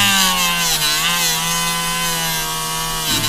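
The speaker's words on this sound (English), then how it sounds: "So I just use the felt wheel and green polishing compound." A spinning felt wheel loaded with green polishing compound works a part from a Walther CCP pistol, giving a loud, continuous whirring hum with a steady motor tone that holds throughout, no voices.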